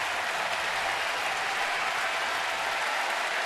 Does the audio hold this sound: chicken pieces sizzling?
no